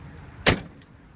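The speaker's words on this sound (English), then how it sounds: "Doors open and close real nice on this thing too," A 1966 Cadillac Fleetwood door shuts with a single solid thunk, then a faint click, in an otherwise quiet setting.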